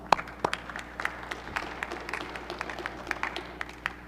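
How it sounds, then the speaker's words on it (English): Scattered applause rises in a Senate chamber during a floor session, a thin spread of separate claps with a few sharper nearby hand claps standing out over a quiet room. "You can clap."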